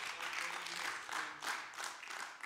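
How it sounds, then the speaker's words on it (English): A church men's gathering gives its worship team a round of applause, heard as faint, fairly distant clapping in uneven waves with a few voices mixed in. "Let's give the worship team a good round of applause"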